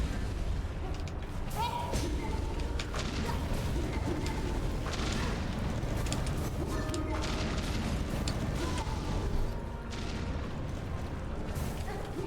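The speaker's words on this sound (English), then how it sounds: "These explosions are intense." A steady, dense wall of booming explosions and rumbling impacts fills Hollow Knight Silksong gameplay, loud and continuous for the whole stretch with little let-up.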